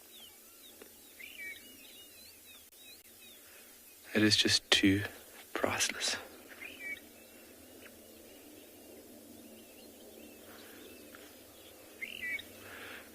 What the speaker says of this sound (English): Forktail drongo busy calling there.